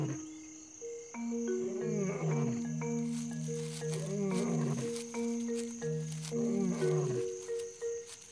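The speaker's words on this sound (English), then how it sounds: "she meets her adult daughter, who also heard the male lion's roars." A male lion roars in the African wild, a series of deep, moaning calls rising and falling over several seconds, heard at moderate distance against a constant background hum of insects.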